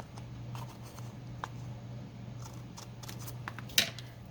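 Scissors snip through paper at close range in a quiet room, with a few soft, scattered cuts and light rustling.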